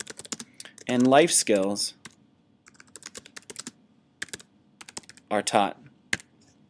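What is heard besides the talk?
typing on a computer keyboard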